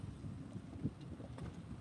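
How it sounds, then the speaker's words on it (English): Low, rumbling wind buffeting the microphone outdoors at Boot Key Harbor, steady and gusty with faint water sounds underneath. "it is pretty windy down here today"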